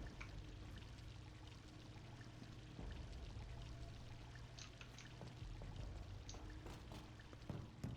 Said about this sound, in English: And that should lower the water,